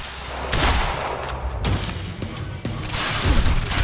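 Gunfire in the video game Quantum Break comes as several loud, close bursts of shots that repeat with short gaps between them over a few seconds.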